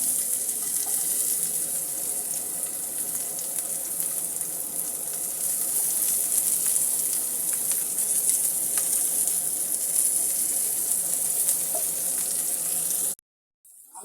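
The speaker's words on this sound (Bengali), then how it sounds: "আমি এখন পেঁয়াজগুলো ভেজে নিচ্ছি।" Sliced onions frying in hot oil in a home kitchen after eggplant, giving a steady hissing sizzle that holds evenly before cutting off abruptly near the end.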